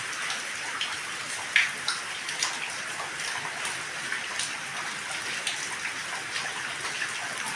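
Rain falls on a flood-damaged Punjabi village house with a leaking roof, a steady close wash of rain with scattered louder drips and drops landing nearby.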